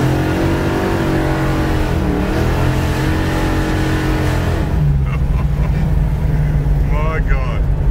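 A 1969 Dodge Charger General Lee replica's V8 idles loud and close with a deep, steady rumble, swelling slightly midway, while people talk over it.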